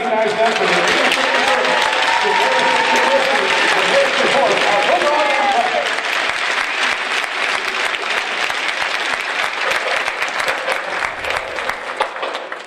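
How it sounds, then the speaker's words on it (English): Hockey arena crowd at a Michigan Tech at Ferris State college game claps in a loud, dense, sustained round of applause that fills the whole stretch, easing slightly toward the end. "Before President Eisler drops the puck, please join us in a big round of applause as we recognize them for their support"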